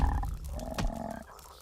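Cartoon frogs croak together in a dense, loud chorus with a sharp accent near the middle, heard alone with no talking, from an animated Teenage Mutant Ninja Turtles episode.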